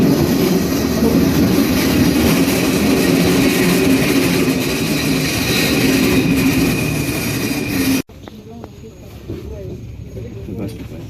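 A metro train rumbles loudly with steady rolling noise and rail clatter for several seconds, then cuts abruptly to quieter ambient noise.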